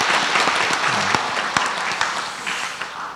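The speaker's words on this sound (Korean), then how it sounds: "우리 박수 한번 하겠습니다." A church congregation at a Korean cell-leader training session applauds, a steady, dense roar of many hands clapping together in a reverberant hall, continuous and fairly loud throughout.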